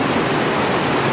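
Loud ocean waves surge and churn at a small blowhole on Shirahama Beach, a dense, steady roar of crashing water filling every moment with no pauses, close and overwhelming.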